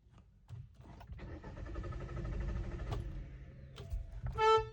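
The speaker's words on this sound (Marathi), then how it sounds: "ही चालू का होत नाहीये?" A nearly new Hyundai Aura with about 6,260 km on it fails to start, its starter whirring steadily for a couple of seconds without the engine catching, followed by a short electronic chime up close.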